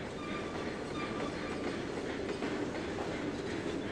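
A steam locomotive runs along a railroad track, a steady, fairly faint rolling rumble with light rhythmic clatter from the wheels, heard from a moderate distance with no voices.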